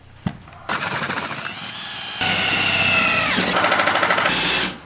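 A power drill bores through the metal roof of a school bus being converted into a skoolie, starting with a sharp click, then running loud and steady with a rising, straining pitch as the bit bites through.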